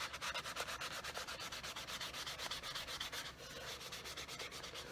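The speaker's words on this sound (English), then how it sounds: "I go over the edges to try to get a smooth finish. Sometimes I'll use a fine sandpaper." Fine sandpaper rubbed back and forth over leather edges during a Tom Ford item restoration, close rapid rhythmic scratchy strokes repeating evenly throughout with no talking.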